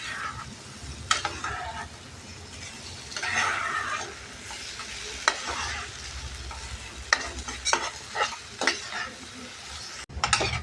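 Wheat flour sheera cooked in ghee being stirred with about a bowl of sugar in a pan, a steady scraping, sizzling stir with sharper spoon knocks now and then, fairly close and alone.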